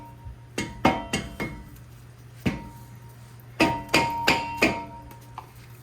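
A rusted brake rotor on a 2018 Jeep JLU is struck with metal and rubber hammers: about ten sharp, loud, close impacts in irregular bursts, with ringing metallic clanks and quiet pauses between them.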